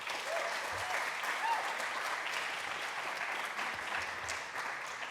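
A crowd at a tourism awards ceremony applauds the winners with continuous, even clapping that is moderately loud and sustained throughout, with no talk over it.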